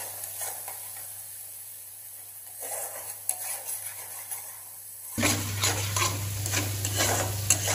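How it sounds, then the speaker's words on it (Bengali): A spice paste with chili powder and salt is stir-fried in a pan: soft scraping at first, then a sudden loud, crackling sizzle that continues steadily under repeated stirring. "এবার ভালো করে মশলাটা কষাবো।"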